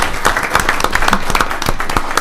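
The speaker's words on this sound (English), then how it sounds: "So round of applause for these guys." Crowd at a county fiscal court session claps in a short burst, brisk and fairly close, with individual hand claps standing out in an uneven rhythm.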